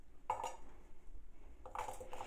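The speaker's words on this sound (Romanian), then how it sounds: "O să le iau și o să le pun într-o oală." Chopped vegetables such as celery, onion, carrot and bell pepper drop into a metal cooking pot, giving two short clattering bursts of clinks separated by a quiet pause, close and fairly soft.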